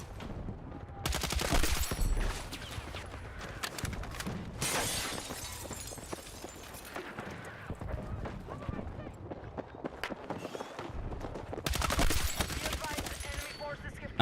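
Bursts of EF88 rifle fire in Battlefield 6, dense crackling volleys with brief lulls and heavier clusters near the start and end, loud and close, with a voice talking over parts of it.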